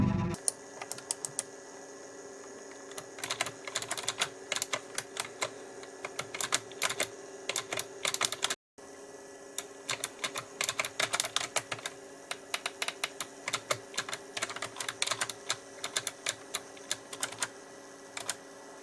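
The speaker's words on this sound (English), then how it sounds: "The mecha membrane keys give you a good mechanical feedback, and this is how they sound during use." Mecha-membrane keys on a Razer Tartarus v2 gaming keypad are typed steadily, producing a dense run of sharp, close clicks in uneven bursts over a low background hum, with one brief pause partway through.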